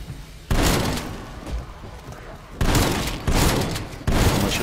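Gunfire in Call of Duty Die Maschine zombies mode, loud bursts of shooting in several sustained volleys separated by short pauses, with quieter game noise between.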